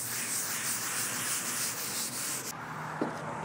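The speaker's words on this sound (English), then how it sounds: "Get a new Scotch-Brite pad and kind of work this in here." A Scotch-Brite pad scrubs the rusty paint of a 1967 Chevrolet C10 with a steady, close, abrasive rubbing hiss that stops abruptly near the end.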